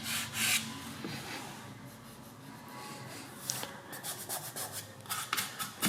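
Fingertips drag across dry, overspray-covered paint on a BMW F80 M3 or M4 CS, producing faint, close squeaky rubbing strokes in short bursts.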